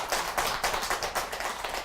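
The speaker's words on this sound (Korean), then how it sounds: "박수 한번 쳐봐요" A small group claps together at a Korean Buddhist dharma lecture on the Mazu records, a brief burst of uneven hand claps lasting under two seconds with no talking.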